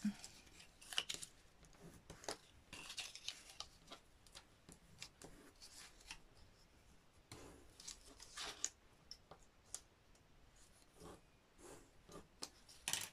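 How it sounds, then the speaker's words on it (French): Scissors snip paper diagonally while folding an advent calendar, giving a run of crisp, close cuts and papery rustles in an irregular rhythm, faint and without talk. "Et on coupe en biais de l'autre côté."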